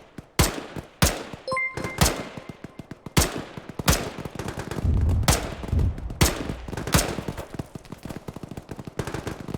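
Rapid bursts of rifle and automatic gunfire in the Arma combat video game during a large multiplayer battle: loud, sharp repeated cracks with irregular rhythm, overlapping volleys and scattered distant shots throughout, no talking.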